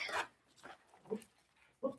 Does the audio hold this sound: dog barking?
yes